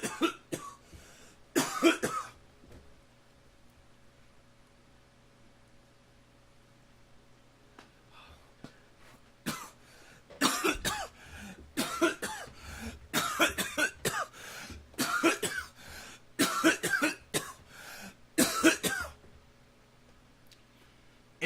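Repeated bursts of coughing from one person, close and fairly loud, coming in clusters with quiet pauses between them; the heaviest fits fall in the second half.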